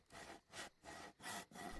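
Wood being sawn in the DayZ survival game, heard as four steady back-and-forth rasping strokes at a regular rhythm, fairly close and alone with no talk.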